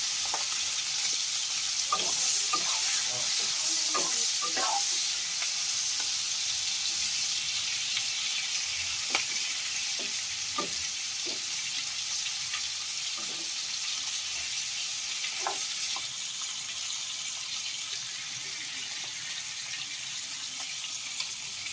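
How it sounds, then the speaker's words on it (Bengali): Prawns fry in hot mustard oil with a constant bright hiss. Scattered soft knocks and scrapes of a spatula against the pan come and go, and the sound is fairly quiet and steady throughout. "তেলটাও গরম হয়ে গেছে। এবার চিংড়িগুলো দিয়ে দেবো।"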